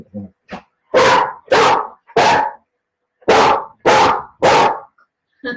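A dog barks in two loud bursts of three sharp barks, close by in a house, with a few softer yips and whimpers between them and no talk over the barking.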